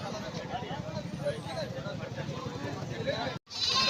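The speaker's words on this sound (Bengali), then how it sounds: "বন্ধুরা দেখুন এখানে বারবারি ছাগলের পাঁঠা রয়েছে" Barbari goats bleat again and again at a busy goat market in Uluberia, their cries close and steady under crowd chatter for several seconds, with a brief dropout near the end.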